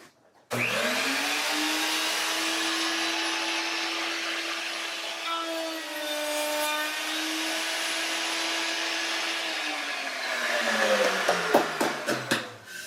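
A woodworking machine spins up and runs steadily while cutting a dado for DIY cabinets, a loud sustained whine holding for about ten seconds before winding down, followed by a few clattering knocks.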